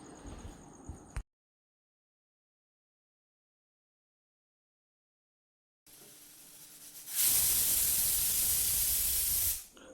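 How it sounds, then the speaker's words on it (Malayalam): A kitchen pressure cooker of rice vents steam: after a quiet stretch, a low background hum returns, then a loud, steady hiss bursts out and holds for several seconds before cutting off. "അപ്പോൾ ഇത് കുക്കർ 4 വിസിൽ വന്നിട്ടുണ്ട്"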